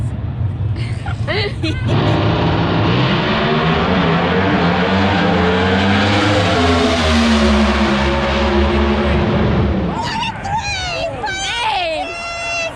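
Drag racing cars doing burnouts in an NHRA 4-Wide video game: a loud, sustained engine roar with rising and falling pitch fills the middle stretch, while people talk over the start and end.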